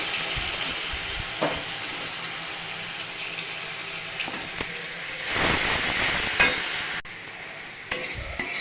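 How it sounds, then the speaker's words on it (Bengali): Onion paste frying in a pan with whole garam masala, cardamom and bay leaves, a steady close sizzle with periodic scraping stirs and a louder burst of hissing midway. "পেঁয়াজটা সুন্দর ভাজা ভাজা হয়ে এসছে।"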